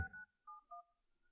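Mobile phone keypad dialing tones, three short separate beeps in a quick irregular sequence, clear and close with no talk.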